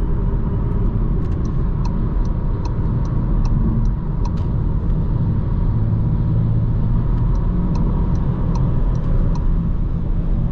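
A 2022 Volkswagen Taigo 1.0 TSI DSG crossover driving, with a steady loud road and engine rumble throughout and faint regular high ticks, no talking.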